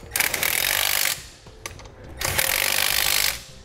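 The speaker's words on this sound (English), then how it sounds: "We'll then tighten those down with a 9/16 socket." A socket ratchet with a 9/16 socket tightens bracket bolts while installing Air Lift LoadLifter 5000 air helper springs on a 2007 Ford, giving two bursts of rapid close clicking separated by a short pause, with no talk.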